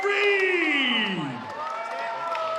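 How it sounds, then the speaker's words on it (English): An arena crowd at a Power Slap event cheers and whoops for a newly crowned light heavyweight champion, a loud surge of shouting voices that peaks early and then settles into sustained, slightly softer cheering. "And the crowd are on their feet."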